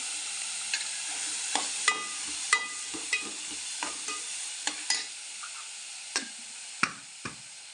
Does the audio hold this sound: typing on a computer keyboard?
no